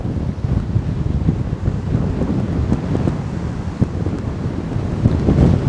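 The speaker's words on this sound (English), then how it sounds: "There's so much wind there." Strong gusty wind buffets the microphone on an open golf course during Open Championship final qualifying, a loud, continuous roaring rush that swells in bursts with no talk.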